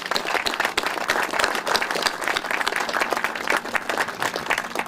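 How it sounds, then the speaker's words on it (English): A crowd applauds at a 9-11 memorial ceremony on a riverfront, with steady, dense clapping sustained throughout the clip. "Let's give everybody involved a big round of applause."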